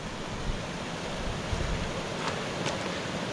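A mountain stream on Mt Antero rushes in a dense, steady wash of flowing water that stays constant throughout, with no voices.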